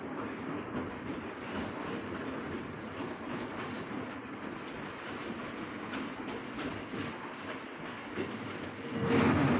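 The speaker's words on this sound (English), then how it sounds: "Here's the E train, taking off to the left at Tower 3" A Key System E train pulls away to the left at Tower 3, Linden Street, on the Bay Bridge rail line, with a continuous rolling rumble and rhythmic wheel clatter that grows louder at the very end.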